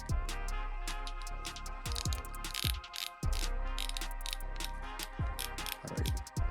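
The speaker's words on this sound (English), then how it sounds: "that's tightening up your drag." The drag on a Daiwa 2020 Alphas Air TW BFS baitcasting reel is turned tight, giving rapid ratcheting clicks in uneven bursts with short pauses, close and crisp with no voices.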